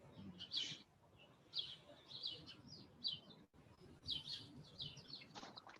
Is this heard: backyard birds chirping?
yes